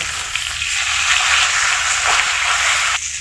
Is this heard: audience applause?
no